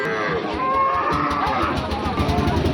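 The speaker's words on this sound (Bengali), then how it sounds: "আমাদের সামনে খুব সুন্দর একটা গাভী আছে" A cow moos in a long, drawn-out low call, close by, with steady outdoor background noise and faint voices underneath.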